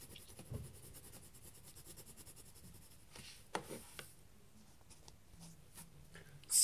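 A pencil draws and colours on paper in a Minecraft annual, soft continuous scratching and rubbing strokes, close and quiet, with a few sharper taps in the middle and near the end.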